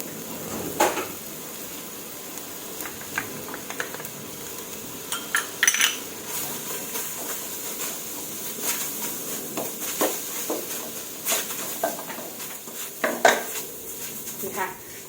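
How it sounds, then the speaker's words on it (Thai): Sour curry paste and fingerroot are stir-fried in a pot for a Thai sour curry with mixed vegetables and fresh shrimp, giving irregular clatters and scrapes of a utensil against the metal pot, close and intermittent. "เอาน้ำพริกแกงส้มแล้วก็กระชายค่ะลงไป ผัดล็กหน่อยนึงค่ะ"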